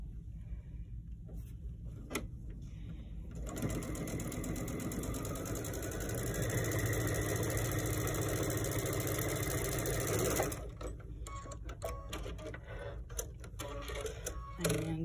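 A sewing machine stitches a row of a Kimberbell Love Notes mystery quilt, a fast, steady whirring run lasting several seconds, framed by quieter handling noises before and after.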